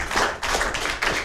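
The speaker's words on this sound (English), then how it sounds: "Clap for yourself." Children applaud at a live TV show hosting event, a quick burst of clapping in three close, loud pulses over about a second, with no speech.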